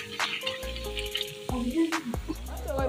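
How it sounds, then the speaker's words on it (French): Cooked pasta poured from a pot into a colander, a soft splash of draining water with a few clanks of the pot, faint and close. "nous allons les retirer du feu et directement les verser dans une passoire"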